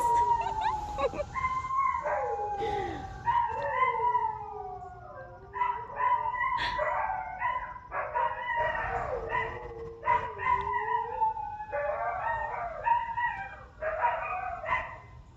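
Several dogs howl and yip together in a rising and falling chorus, sung along with a passing siren, the voices overlapping in frequent bursts across the whole stretch, near and fairly loud.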